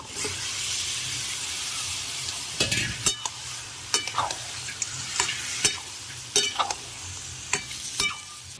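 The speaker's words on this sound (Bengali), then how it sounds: "এদিকে মাংস কষা হচ্ছে" Desi duck meat with melted tomato sizzles steadily in a pan, broken by sharp scraping stirs about once a second, close and fairly loud with no talk.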